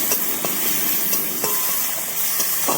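Turmeric and ginger-garlic paste sautéing in a pan while being stirred, a dense continuous sizzle with occasional scraping strokes of a utensil, close and loud, with no voices.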